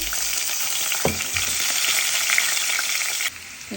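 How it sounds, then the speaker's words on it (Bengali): Potatoes frying in hot oil for a beef biryani, a steady close sizzle and crackle throughout with a soft stir or clink, dropping quieter near the end. "আমি এখন আলুগুলো ভেজে নেব।"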